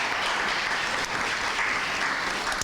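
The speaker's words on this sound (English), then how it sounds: "A round of applause for Terri Jones" An audience at an agricultural Plant Science Day event in Connecticut claps in steady, dense applause, a continuous wash of hand claps that fills the whole stretch.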